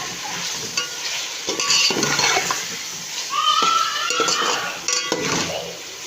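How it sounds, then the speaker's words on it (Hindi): Raw chicken going into a pot of chicken pulao, with a wet sizzle and the scrape of stirring that rises and falls in short bursts close by. No one speaks. "अब मैं इसके अंदर चिकन डालने वाली हूँ।"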